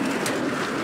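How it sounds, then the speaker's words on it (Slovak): Pigeons from Tornaľa coo in a short, dense burst at a feeding in Rimavská Sobota, a soft low murmur over steady airy background noise. "kde sú tornálske holuby"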